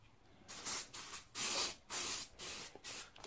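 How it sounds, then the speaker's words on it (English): Several short hissing bursts from a spray bottle spraying starch onto fabric, close by, in an uneven rhythm of quick squirts and longer sprays. "So I'm going to spray starchy inside here."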